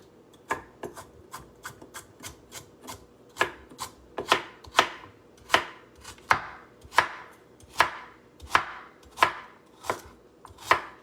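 A knife chops through carrots on a cutting board in a steady series of crisp, close thuds, slow at first, then settling into an even rhythm.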